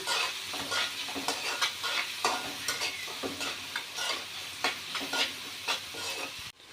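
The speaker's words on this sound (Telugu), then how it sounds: "కొద్దిగా పసుపు వేసుకొని మనం గోల్డెన్ బ్రౌన్ వచ్చేంత వరకు కాస్త వేపుకోవాలి" Onions or spices sizzling in a pan with salt and turmeric for paneer curry, steady frying hiss broken by repeated scraping stirs, close and continuous without speech.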